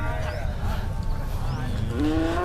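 Cattle and buffalo at the Thung Fa Bot livestock market in San Pa Tong low in a steady crowd din, with one clear rising moo near the end.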